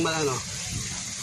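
Water poured into a pan of bagoong guisado (sautéed shrimp paste) during cooking, a brief close gush and splash that quickly fades under a voice talking.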